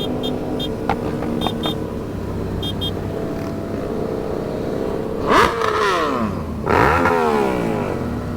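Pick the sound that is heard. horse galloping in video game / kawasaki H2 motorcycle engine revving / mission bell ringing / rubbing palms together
kawasaki H2 motorcycle engine revving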